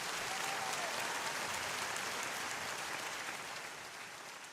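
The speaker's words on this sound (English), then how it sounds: "Give me some applause on that one, man." Dense crowd applause at a political speech, a continuous roar of many hands clapping that holds steady and then fades gradually near the end.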